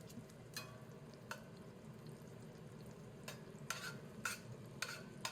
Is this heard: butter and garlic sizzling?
yes